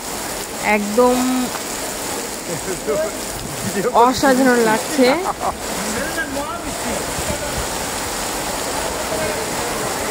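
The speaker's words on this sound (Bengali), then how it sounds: "অনেক বৃষ্টি হচ্ছে, খুবই দেখেন কাছে এগিয়ে আসছি, বাইরের দিকে দেখুন, অনেক সুন্দর বৃষ্টি হচ্ছে।" Heavy evening rain falls outside in a steady, dense hiss that runs through the whole stretch, while a nearby voice talks briefly over it in the middle.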